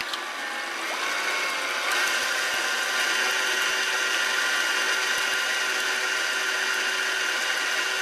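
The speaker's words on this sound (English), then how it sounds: "now I'm going to put my sugar and my vegetable oil in my mixer. And I'm going to mix this together." An electric stand mixer whirs steadily as it beats sugar and vegetable oil together for red velvet cupcake batter, a continuous close motor hum with a slight shift in pitch early on and no talking.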